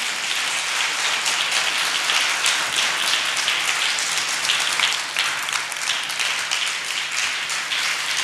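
A church congregation at a Palm Sunday meeting claps loudly and steadily together, a dense wash of applause filling the hall without a break.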